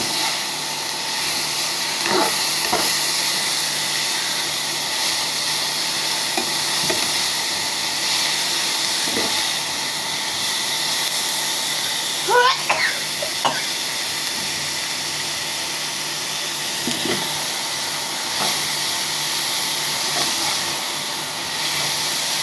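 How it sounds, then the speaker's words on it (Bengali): Broccoli, capsicum and green chillies fry in a pan with a steady, loud sizzle and hiss. Occasional clinks of stirring cut through the constant frying. "এভাবে ব্রোকলি, ক্যাপসিকাম, কাঁচামরিচ ভেজে নেবেন"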